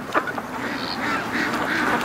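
Geese and Muscovy ducks at a lake, a few short honks and quacks over steady outdoor background noise, moderately close.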